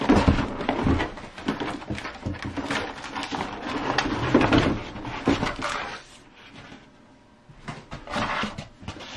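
An RC brushless monster truck is pulled from its cardboard box, with a run of scraping, rustling and thumping handling noises on cardboard and plastic, close and uneven, easing into quieter rustles near the end.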